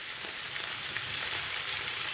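Mackerel fish frying in a pan gives a dense, even sizzle with crackling spatter, loud and close, no voices.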